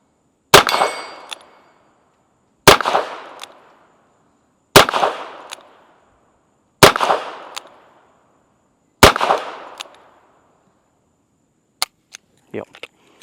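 Five sharp, loud gunshots from a Ruger GP100 .22LR revolver, fired at an even pace about two seconds apart, each with a short ringing tail, followed by a few faint clicks.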